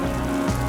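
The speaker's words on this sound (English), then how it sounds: "The rain is almost tropical." Heavy, almost tropical rain pours down as a dense, steady hiss, loud and continuous throughout the brief moment.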